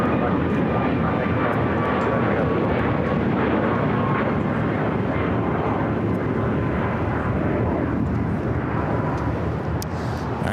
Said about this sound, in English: The Lufthansa Queen about to make a right-hand turn onto Kilo.